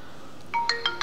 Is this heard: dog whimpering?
no